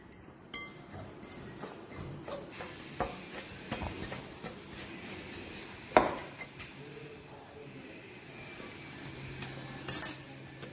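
A fork scrapes and clinks against a bowl, mixing instant jamun mix into a soft dough with milk, a run of faint irregular taps and scrapes with a few sharper knocks.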